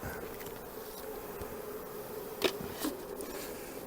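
Honey bees buzzing in a steady, close hum while being moved from a hive into nucleus colonies, with a couple of brief louder bursts as individual bees pass near.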